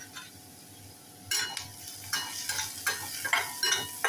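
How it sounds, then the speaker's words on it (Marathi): Dried shrimp sautéed with salt in a pan, starting as a quiet low sizzle, then a loud burst and repeated scraping stirs with sizzling rising in bursts, close and with no talking. "छान परतून घेऊया. थोडंसं मीठ टाकून घेऊया"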